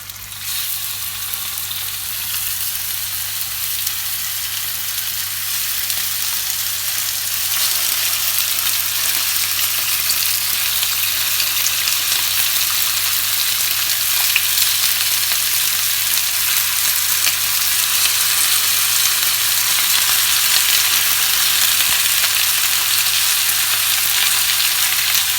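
Lamb pieces sizzle in hot olive oil in a pan for a tajine, a steady broadband frying hiss that swells and stays loud and close throughout, with no talking.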